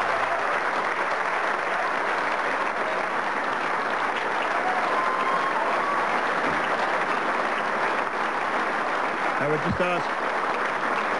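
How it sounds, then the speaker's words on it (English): Sustained audience applause fills the hall after Josh Francou of North Adelaide is declared the 1996 Magarey Medal winner, steady and dense throughout while someone speaks over it on the PA. "I'm sure you'll continue to give him a wonderful round of applause for a most emphatic Magarey Medal victory"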